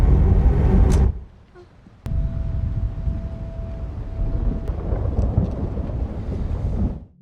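Heavy rain pours over a city with deep rumbling thunder, loud and continuous, briefly dropping away before the downpour resumes at full strength.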